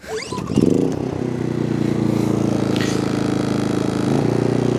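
An electric lawn mower starts and cuts slightly taller grass, settling into a loud, steady motor hum with a rhythmic pulsing texture that runs close and continuous to the end.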